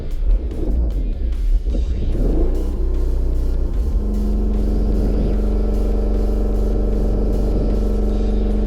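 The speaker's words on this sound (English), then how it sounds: "here is the footage I got of us driving" An abandoned Chevrolet Cavalier car being driven home, its engine rumbling loudly up close, revving and settling into a steady droning cruise with a low hum throughout.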